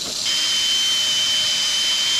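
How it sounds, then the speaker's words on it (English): A power sander works steadily across wood, a continuous high-pitched whine with a faint tonal hum, starting abruptly and running close and loud without talk. "Before I get too far, I'm going to go ahead and sand this off."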